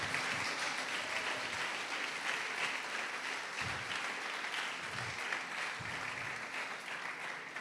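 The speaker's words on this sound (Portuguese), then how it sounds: "Você pode aplaudir o Senhor por isso?" Sustained applause from a congregation praising the Lord in a Portuguese-language church service, a broad, even roar of many hands, somewhat distant and constant throughout.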